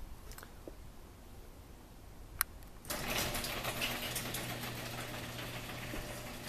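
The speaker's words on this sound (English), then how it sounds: "This is the garage door opener." A steady mechanical motor hum starts abruptly after a faint click and runs evenly, fairly quiet and continuous, an Access Master garage door opener grinding along with metal rollers.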